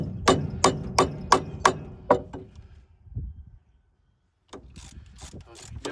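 Metal hammer taps on a bolt of a New Idea 5209 disc mower, about seven sharp, evenly spaced close strikes, then a pause and a few softer knocks and clanks.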